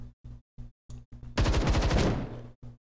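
A gunshot fired at the Goliath in the video game Templar Battleforce: a loud burst of rapid gunfire and impact noise lasting about a second, set among short repeated game sound effects before and after.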